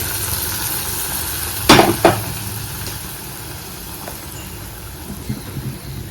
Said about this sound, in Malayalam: ഇനി നമുക്കിത് നമ്മുടെ ആ ഒരു കറിയിലേക്ക് ഒഴിച്ച്